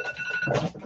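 A phone countdown alarm ringing with a steady electronic tone, close and brief, with a slight shift in tone near the end.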